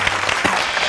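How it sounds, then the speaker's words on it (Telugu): Audience of students at a junior college game show clapping, a brief dense patter of many hands, loud and close, lasting about a second. "ఒకసారి గట్టిగా క్లాప్స్ కొట్టండి."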